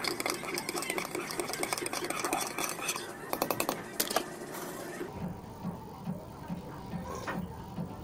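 A mixture being stirred makes a busy, fast clicking and scraping for about five seconds, then drops to a softer steady stir. A voice talks quietly underneath.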